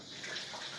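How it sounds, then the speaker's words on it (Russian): Water streams steadily from a newly installed rain shower head, a continuous broad hiss of falling water close by with no talking. "Ну и давайте пробовать, включаем воду."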